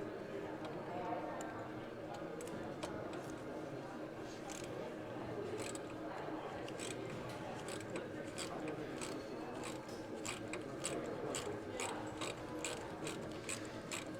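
A ratchet fitted with a 3/8 swivel clicks steadily while loosening bolts on a Harley-Davidson Road Glide Special during a Stage IV 131 engine build, its close, rapid pawl clicks running throughout over a busy shop background.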